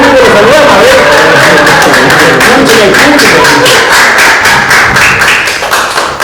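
A studio audience at a talk show with a conversation panel applauds, brisk dense clapping with some taps and thumps, loud and close throughout.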